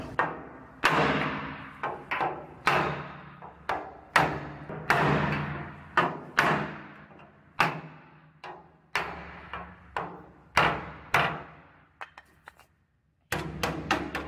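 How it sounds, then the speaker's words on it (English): A hammer drives a block of wood against metal in a series of sharp, near thuds, about a dozen blows at an uneven pace with short ringing decays, a brief pause near the end, then more strikes. "I'm gonna use a block of wood and a hammer instead."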